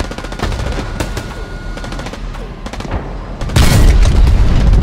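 Heavy tank cannon fire and impacts in the World War II shooter Hell Let Loose, loud dense booms with rattling gunfire throughout and a stronger blast near the end.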